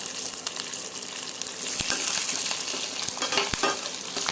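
Curry leaves and dry red chillies crackle in a hot pan for kootu, a bright, steady sizzle broken by several sharp spatula clicks and scrapes, close and moderately loud.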